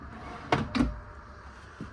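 Kitchen drawers in a 2024 Phoenix 334FL RV are worked in two quick wooden thumps close by, and a soft knock follows a second later. A low room hum runs underneath and nobody speaks.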